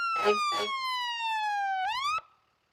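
A fire truck siren wails in a single long sweep, starting with two short yelps and ending in a quick upward whoop before cutting off.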